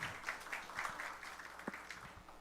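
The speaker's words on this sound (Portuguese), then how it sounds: "Uma salva de palmas, senhora conselheira" Audience applause at a national auditing forum, a soft, distant patter of clapping that holds steady and then slowly fades out.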